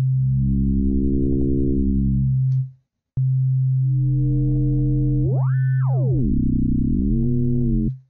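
A pure synthesizer sine tone holds steady, cuts out briefly, then returns with rising and falling pitch sweeps and a warbling, modulated passage before fading.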